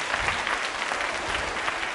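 Applause fills a college quiz show hall, a brief, even burst of many hands clapping together from the audience.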